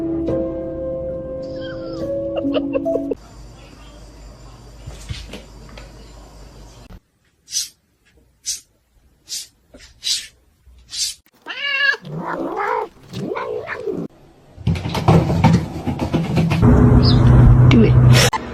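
Cats meow and caterwaul in a string of short, separate, close cries, while people talk and laugh around them and other noises come before and after.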